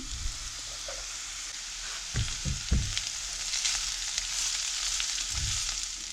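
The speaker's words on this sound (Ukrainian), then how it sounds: "Для начинки коржиків підсмажуємо до м'якості цибулю, додаємо сюди моркву, на олії підсмажуємо" Onion and carrot frying in oil for a flatbread filling, a steady close sizzle with a few soft stirring knocks and no speech.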